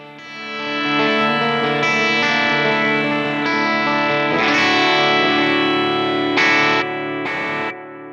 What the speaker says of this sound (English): and the Echo Tank.